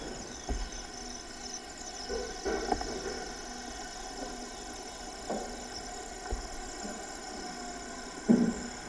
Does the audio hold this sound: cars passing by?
yes